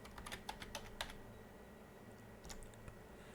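Fingers tap quickly on a computer keyboard, a close, quiet flurry of key clicks followed by a short pause and a few more taps, with no talking.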